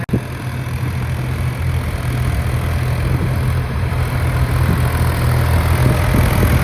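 Two tractors, one of them old, run together in the same farm field, producing a continuous, fairly loud engine rumble that stays steady throughout, with no talking.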